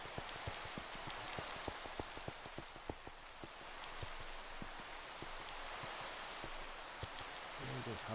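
Rainfall in Minecraft near a jungle keeps up a continuous hiss, with sharp drop ticks pattering irregularly throughout and a low rumble creeping in near the end.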